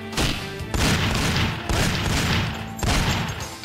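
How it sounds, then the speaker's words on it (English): Raptor Magnum .50 caliber pistol fired in the video game Nightfire, four loud, close shots spaced about a second apart, each a sharp crack with a booming tail. "It's a Raptor Magnum, 50 caliber, so you shouldn't be taking that many shots."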